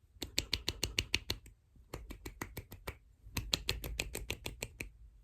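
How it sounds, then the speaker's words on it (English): A rapid series of sharp, crisp slapping snaps comes from a one-handed clap, fingers striking the palm in quick bursts of about eight to ten hits separated by short pauses, close and clear. "today I'm gonna be teaching you guys how to clap with one hand"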